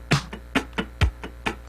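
Straight, even sixteenth-note scratches muted on a funk rhythm guitar over a drum machine beat, crisp percussive strokes with thumping kicks, close and clear without voices.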